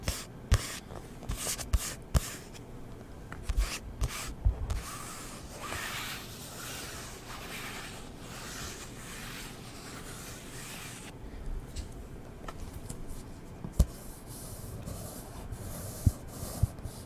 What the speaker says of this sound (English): This kind of scratching sound like this.